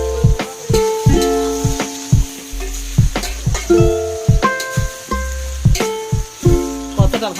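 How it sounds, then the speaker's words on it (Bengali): Hilsa fish frying in a pan, a steady sizzle broken by repeated sharp clinks and scrapes of a utensil stirring against the metal pan, close and fairly loud. "কতটা ভাজা হচ্ছে দেখুন বন্ধুরা"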